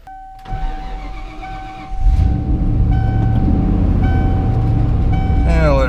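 A pickup truck cranks for a moment, fires up, and settles into a steady warming idle up close, with a faint high tone throughout.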